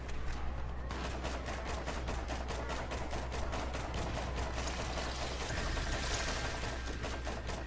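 Rapid automatic gunfire in the video game Borderlands, a dense stream of evenly spaced shots that pauses briefly near the start, then continues loud and steady.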